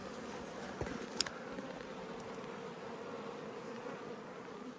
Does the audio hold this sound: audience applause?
no